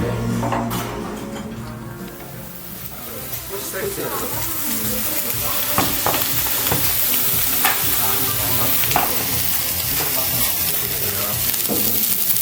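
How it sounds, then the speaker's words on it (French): Steak sizzles loudly on clay plates at a Seoul restaurant, a continuous crackling hiss with scattered pops and clinks, while people talk over it. "Et ça continue à cuire là dans les assiettes en terre cuite"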